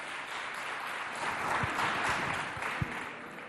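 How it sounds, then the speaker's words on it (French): A school audience gives a student a fairly soft, continuous round of applause with a few distinct claps standing out near the end. "On l'applaudit bien fort s'il vous plaît."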